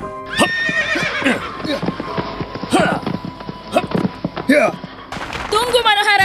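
A horse whinnies loudly, then hooves clip-clop in a quick rhythm as a staged sound effect in an Indonesian radio drama, ending with a second high whinny, all up close with voices speaking over it.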